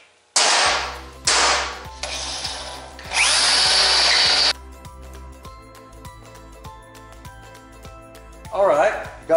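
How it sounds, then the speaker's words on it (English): A power drill bores 5/16 inch holes in a cargo trailer workshop, with several loud whining bursts of varying length separated by pauses and a final short whir. "I've determined I'm gonna need to drill two holes, one here, at least 5/16 of an inch"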